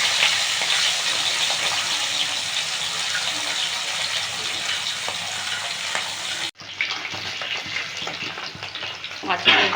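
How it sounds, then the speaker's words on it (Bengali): Pieces of rohu fish fry in hot oil, a loud, continuous close-up sizzle with spitting crackles, briefly cut off, then resuming slightly softer with scattered pops. "মাছগুলো ভাজা হয়ে গেছে"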